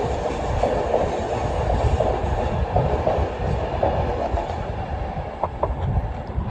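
An 11-coach Class 390 electric train bound for Manchester Piccadilly rolls past close by, with a loud, steady rumble and rhythmic clickety-clack of wheels over rail joints throughout.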